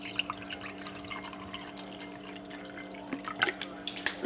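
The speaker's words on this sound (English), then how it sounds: "we're gonna put some water in here" Water is poured into a pot to start making hard candy: faint, soft trickling and a few small splashes over a steady low room hum, brief drips near the end.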